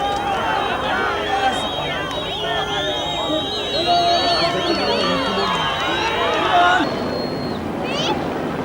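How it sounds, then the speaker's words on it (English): A large crowd roars and clamours with excitement at Nelson Mandela's release from prison, a dense continuous swell of voices and whistles that fades near the end, with someone talking over it. "And the crowd getting excited."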